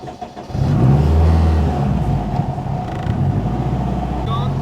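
A Honda Civic Type R with a broken transmission revs loudly up close, its engine droning and surging while grinding, creaking mechanical noises come from the drivetrain, and voices talk underneath.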